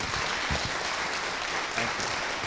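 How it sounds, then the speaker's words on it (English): Audience applause at a town hall meeting in Brixton, a steady wash of many hands clapping together, fairly close and even in loudness for the whole stretch with no talk over it. "I really ask you to give them a round of applause, please."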